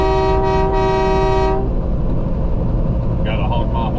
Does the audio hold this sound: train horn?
yes